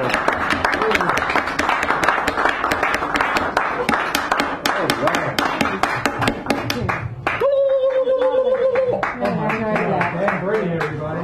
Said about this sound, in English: give Karen Molander Magoon a round of applause as she comes up here